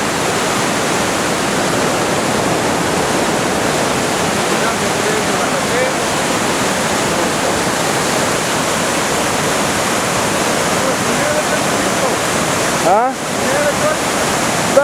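Floodwater on the Zhvan river rushes past the village of Zhvan in a loud, continuous roar, with voices faintly present beneath it and a brief bump near the end.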